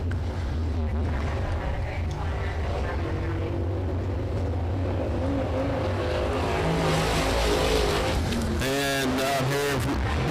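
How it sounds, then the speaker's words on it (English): The COOP Coupe race car roars onto the track at the green flag at Big O Speedway, a loud continuous engine drone joined by other cars, with an announcer talking over it. "And taking the green flag right now, we got the COOP Coupe."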